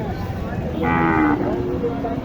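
A single drawn-out cow moo rises briefly over a noisy outdoor background at a cattle market in Naogaon, Bangladesh, fairly close and moderately loud.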